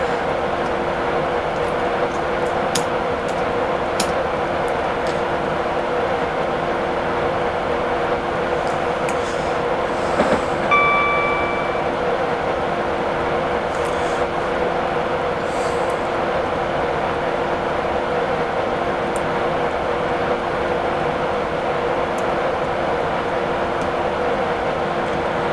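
Simulated train running in Train Simulator 2017, a steady rumbling drone with faint clicking and a brief tonal squeal midway, continuous and even throughout.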